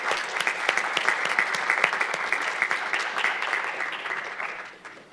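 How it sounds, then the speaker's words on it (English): Lecture-hall audience at a university graduate school talk event applauding the dean, dense crisp clapping from many people held steady before tapering off at the end. "If we could just give him a round of applause."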